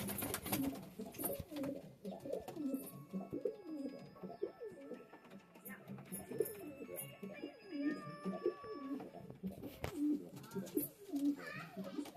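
Homer pigeons coo continuously in a close chorus of soft, throaty, overlapping calls, with occasional wing flutters and faint rustling in the background.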